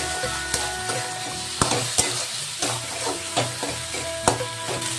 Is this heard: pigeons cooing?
no